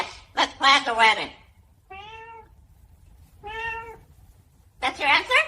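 A cat meows twice, each a clear tonal call with a rising-falling pitch, set between stretches of a parrot's chatty talking voice before and after.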